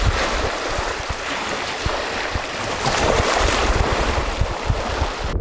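Strong wind blows across the microphone at a coastal lookout on the Western Australian coast near Shark Bay. The roar is loud and continuous, with low buffeting rumbles throughout.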